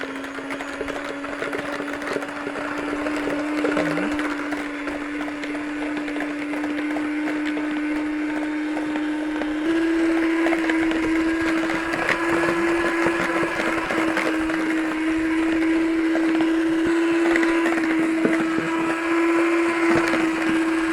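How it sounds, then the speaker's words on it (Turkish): Eggs and sugar are beaten until foamy for a homemade cake batter with an electric mixer, which gives a steady, loud motor whine that holds for the full stretch and rises slightly midway, with no voices. "İyice köpük köpük olana kadar çırpıyorum."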